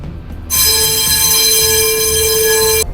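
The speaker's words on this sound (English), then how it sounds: "sound the alarm" A loud, harsh ship fire alarm blares continuously for a couple of seconds, a buzzing, steady electronic tone that starts and stops abruptly.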